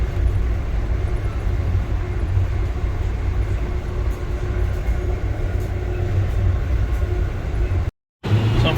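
Amtrak Downeaster train arriving in Portland, heard from aboard as a loud, steady low rumble of rolling wheels and car noise that runs throughout, cut by a brief dropout near the end.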